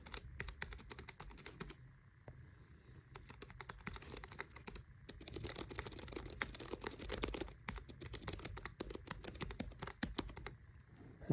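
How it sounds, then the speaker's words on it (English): Typing on a Keychron K3 keyboard: rapid, close clicky keystrokes in irregular bursts with short pauses, fairly quiet and with no talking. "That's what the keys sound like."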